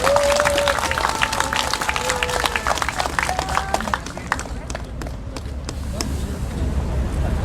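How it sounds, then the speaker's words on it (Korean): An audience claps for a guest speaker at a political podcast talk event, moderate crowd applause mixed with murmuring voices and a few tonal sounds, continuing steadily under some talk. "박수 부탁드립니다."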